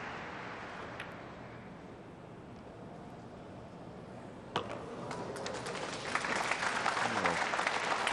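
An audience applauds after a shot in a 2004 World Pool Championship match between Yang and Lohtander: a steady wash of distant clapping that swells louder toward the end, with no talk over it.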